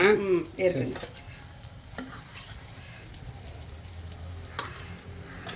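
Eggs frying and stirred on a tawa for a spicy Mumbai-style egg masala, with a steady soft sizzle throughout and a few louder scraping, flipping clatters near the start.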